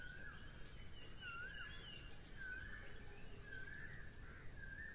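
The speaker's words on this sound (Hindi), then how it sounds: "कोयल की आवाज़, तो आप ये सुनिए।" A koel calls repeatedly in a forest of Borivali National Park, with rising whistled notes that come in a steady series over a constant hum of ambient noise. The bird sounds moderately distant.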